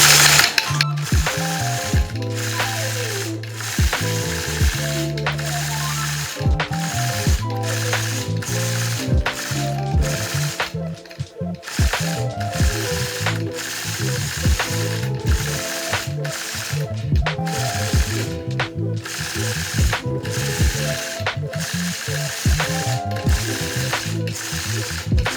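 A long-arm quilting machine free-motion stitches a tulip design across a fabric strip, its needle mechanism chattering in a fast, steady ratcheting rhythm up close, with only a brief slowdown midway.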